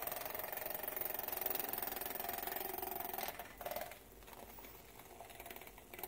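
Electric milk frother whirring steadily while frothing milk for French press coffee, a continuous close buzzing hum that shifts in pitch and briefly dips partway through.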